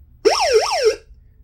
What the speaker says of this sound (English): It does have a siren too, which is really loud.